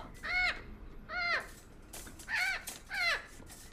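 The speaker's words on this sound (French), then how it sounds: "Oh, tais-toi, oiseau débile, on a de la visite." A bird calls four times, short bright warbling notes in two pairs with brief pauses between, close and clear over a quiet background, with no talking.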